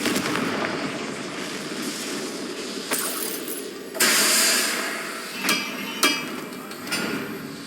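A Confringo blasting spell goes off in Hogwarts Legacy while ancient ruins are explored, bringing a run of sharp impact cracks and bursts over steady game ambience, loudest around the middle, then a few fainter hits.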